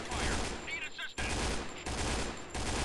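Rapid gunfire in the video game Point Blank Strike: dense bursts of automatic fire rattling loudly and close, broken by short pauses, with voices faintly under the shooting.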